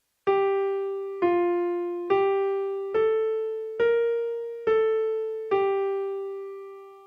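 Opening notes of We Wish You a Merry Christmas on piano: seven clear, evenly spaced struck notes that ring out and decay, the last held slightly longer, played alone with no talking.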